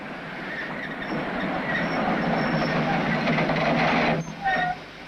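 A train runs along the Turkish-Soviet frontier in 1964, rumbling steadily and close with rhythmic wheel clatter, and a short squeal toward the end.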